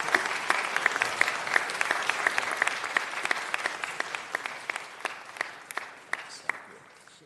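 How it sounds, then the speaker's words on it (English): A small group at a city council meeting claps steadily for several seconds, the applause close and even, then gradually thinning out toward the end. "big round of applause"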